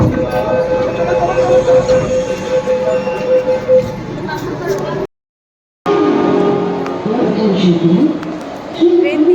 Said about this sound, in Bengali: লাকি ট্রেনটা আজকে রাইট টাইমে এসছে পুরুলিয়া হাওড়া এক্সপ্রেসটা